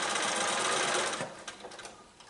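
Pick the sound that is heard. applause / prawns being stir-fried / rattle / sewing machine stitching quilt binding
sewing machine stitching quilt binding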